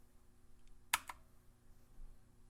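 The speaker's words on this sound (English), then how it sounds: "hit F12 again on our keyboard" A single quick key press clicks once, faint and close, followed by a softer second tap in an otherwise quiet room.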